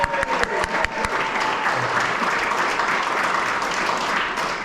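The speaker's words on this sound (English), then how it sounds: "Let's have a round of applause for the speeches" Wedding guests break into steady, fairly close applause after the speeches, opening with a few sharp individual claps before merging into a full, even round that holds throughout.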